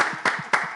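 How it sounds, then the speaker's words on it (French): Studio audience applause on a TV game show, three sharp bursts of clapping close together over a continuous crackling background. "Applaudissez."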